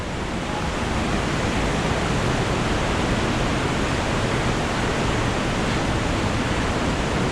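Water pouring at the spring of the Soča river in a small canyon, a loud steady rushing roar with no breaks, close and continuous.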